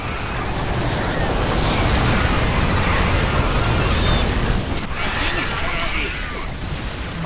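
A loud, roaring energy blast explosion in a video game rumbles on for several seconds, with a second surge midway.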